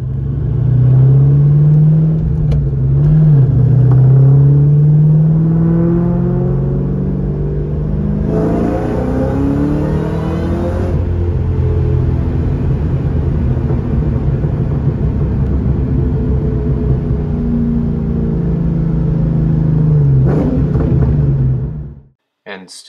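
A 2004 Ford Mustang SVT Cobra Terminator's exhaust revs up loud and close, its deep note swelling and dipping through several blips and a long steady hold before cutting off abruptly.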